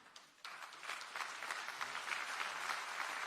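Conference audience at a Warsaw defence forum breaks into a round of applause for an arriving minister, starting faint and then swelling abruptly into dense, sustained clapping from a large crowd.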